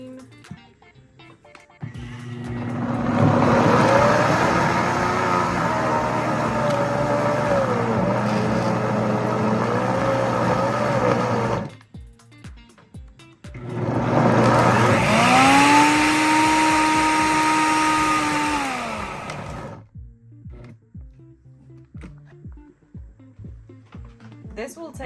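Peanuts being ground into peanut butter in a blender, the motor roaring loudly in two long bursts of about nine and six seconds with a brief pause between, and quieter handling noises before and after.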